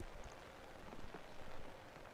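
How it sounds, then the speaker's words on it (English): Heavy rain pours onto a cricket ground during a T20 grade cricket grand final, a steady, even wash of hissing rainfall, fairly quiet and unbroken, with no voices over it. "That's quite heavy now, the rain."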